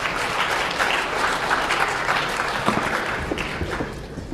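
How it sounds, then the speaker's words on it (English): A lecture hall audience gives a steady round of applause for a game demonstration in a class on chess, strategy and credible threats, dense even clapping lasting throughout at moderate distance. "so a round of applause again"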